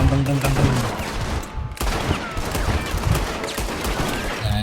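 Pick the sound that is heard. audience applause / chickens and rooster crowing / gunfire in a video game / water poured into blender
gunfire in a video game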